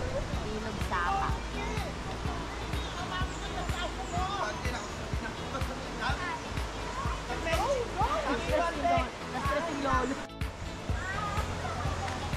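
Steady rush of a flowing stream in Liliw, Laguna, heard near a spring resort, running continuously under lively chatter and shouted voices of several people nearby, with occasional knocks and thumps.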